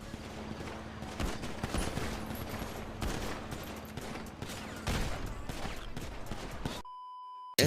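Dense bursts of gunfire from a GTA RP roleplay session ring out nearly nonstop across the scene, with overlapping shots and heavy sustained volume, then cut abruptly to near silence with a faint tone near the end.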